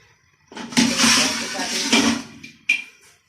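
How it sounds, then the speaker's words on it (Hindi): One kilogram of rice pours into a pot of water with a rushing, splashy hiss lasting over a second, then a brief clink follows. "अब मैं इसके अंदर डालेंगे चावल।"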